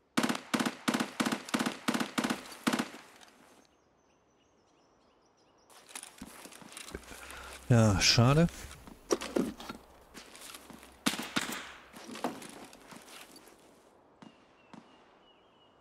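Rapid bursts of sharp gunfire in the video game Escape from Tarkov crack in quick succession, then after a quiet pause more scattered shots and a loud blast follow, with brief speech.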